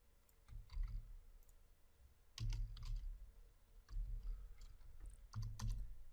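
Computer keyboard clicks while code is copied and pasted for a PL/SQL query in Oracle Database, soft close taps and clatters in several short bursts with pauses between.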